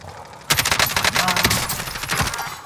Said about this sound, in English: It's another dude shooting.